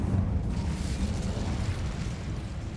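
A fire spell cast in Hogwarts Legacy, a steady low rumbling whoosh of flame that holds at even loudness throughout with no talk.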